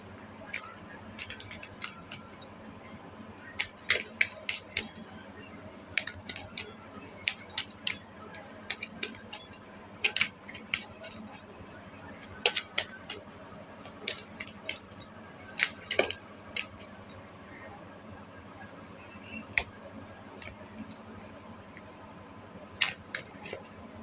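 Playing cards being shuffled by hand, giving a long run of soft, crisp ticks and flicks in irregular bursts, close but quiet, with no talk.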